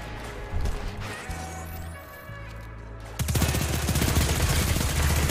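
SMG fire in the video game Destiny 2, a mechanical clatter and short bursts giving way to a loud sustained rapid rattle of automatic shots lasting a couple of seconds.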